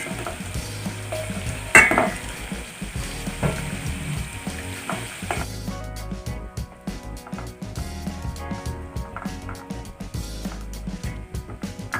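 Badhusha dough pieces frying in hot oil, producing a continuous loud bubbling sizzle with occasional clinks and stirring scrapes throughout.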